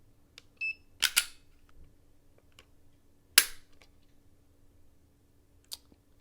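Trigger pull on a Springfield Hellcat OSP pistol measured with a gauge, giving a few sharp isolated clicks and snaps separated by quiet pauses, close and fairly crisp.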